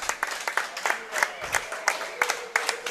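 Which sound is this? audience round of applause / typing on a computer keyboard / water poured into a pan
audience round of applause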